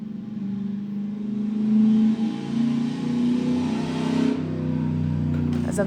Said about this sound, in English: a very loud truck